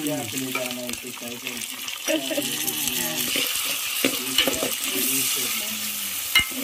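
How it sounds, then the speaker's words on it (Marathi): Food fries in a pan for a traditional Latur-style breakfast dish, with a steady bright sizzle and scraping stirs, the spatula tapping and clinking against the metal at intervals, close and loud throughout. "आणि हे छान फ्राय होऊ द्यायचं."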